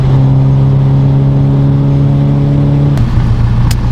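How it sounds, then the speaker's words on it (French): A race car engine at the Magny-Cours circuit holds a loud, steady, close drone with a strong low hum, then the pitch drops sharply near the end, followed by a couple of brief clicks. "Oh le bruit de cette voiture, incroyable"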